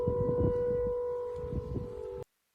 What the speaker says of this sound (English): there's also an air raid siren going off in the background.